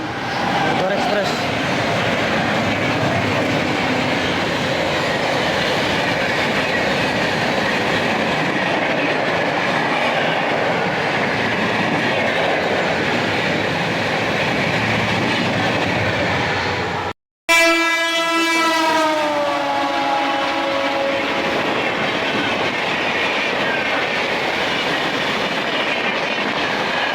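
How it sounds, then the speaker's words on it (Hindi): Murdhar Express passing alongside during an Amrit Bharat Express journey: a loud, continuous rumble and rush of the overtaking train, broken by a brief gap, then rhythmic rail clatter as it goes by. "आगे भाई मुरधर एक्सप्रेस ओवरटेक करने।"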